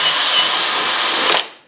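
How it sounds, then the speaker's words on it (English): A handheld power drill with a quarter-inch bit bores through a Kydex knife sheath, a loud, steady whine that holds for over a second and then cuts off abruptly. "So I just take my regular drill here and I'm going to line that up on there about right on that hole. And I'm going to drill."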